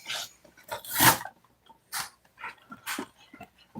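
A dog indoors gives a series of short barks, yips and whimpers in uneven bursts with brief pauses between, close and moderately loud, with no talk over it.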